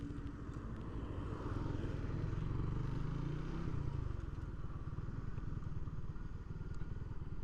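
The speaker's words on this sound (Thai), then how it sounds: "เดี๋ยวผมจะขี่รถเข้าไปนะครับ" Suzuki Raider 150 motorcycle riding into a park in Sakon Nakhon, a steady, close engine drone with a rhythmic low putter and rising rumble midway, plus faint rattles, carrying on evenly throughout.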